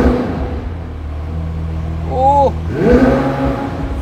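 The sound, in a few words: McLaren 765LT engine revving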